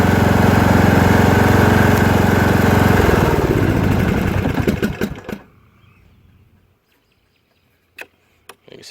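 A Briggs and Stratton small engine runs loudly on a test stand with a fast, buzzing beat, then is switched off and winds down into silence, followed by a few faint clicks.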